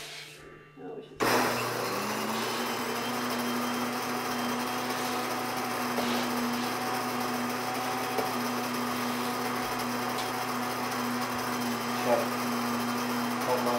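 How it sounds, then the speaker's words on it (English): A grain mill set to a medium grind steadily grinds local wheat into flour, starting abruptly after a short quiet moment and then running as a loud, constant whirring drone. "This mill here, we have it about on a medium setting. For medium grinding"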